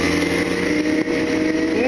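An NK400 motorcycle engine droning steadily while the bike rides a wheelie on an open road, the engine note held and fairly loud throughout with a faint voice beneath it.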